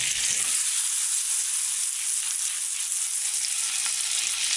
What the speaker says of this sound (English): I'm going to go ahead and take me in some more butter. About a little bit. Melt it.